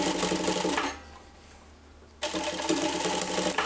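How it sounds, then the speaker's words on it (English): A sewing machine runs a simple stitch along a polo shirt seam, its dense rapid whir loud and close, pausing for about a second before starting up again. No one speaks. "our sewing machine and we will do a simple stitch 1 millimeter from the edge"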